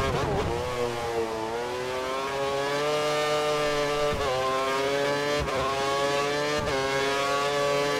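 A Formula 1 car in the F1 2013 game screams around the Suzuka circuit, its engine note rising steadily through the revs and broken by a few quick gear-shift stutters, loud and uninterrupted.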